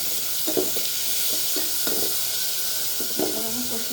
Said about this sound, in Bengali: সবজিটা দিয়ে ভালোভাবে মাখতে হবে